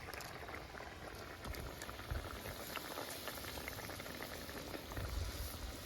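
Water boiling steadily in a pot for mattar paneer, a continuous bubbling patter with a few louder surges, close and alone.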